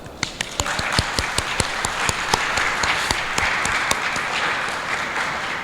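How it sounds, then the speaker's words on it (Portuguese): A church congregation at a Sunday service claps in a warm burst of applause, individual sharp claps standing out over the steady crowd clapping throughout. "Ya, un aplauso"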